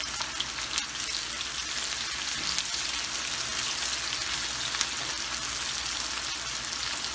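Onions sizzling in hot oil for karahi kabab, a soft, even crackle like light rain that holds steady throughout with no talking.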